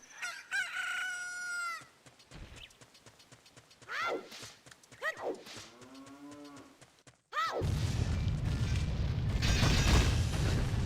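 A cow moos in The Legend of Zelda: Ocarina of Time, mixed with in-game crowing rooster, clip-clop hooves and other farm animal calls, ending in a loud burst of dense game noise.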